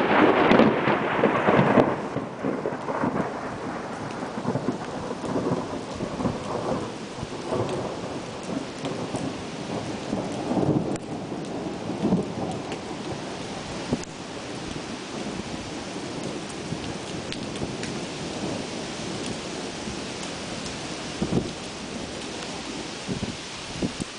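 Thunder rolls and rumbles through a steady rain during a lightning storm at the Tomb of the Unknown Soldier, loudest in the opening seconds, then a continuous wash of rainfall with scattered crackles and softer rumbles.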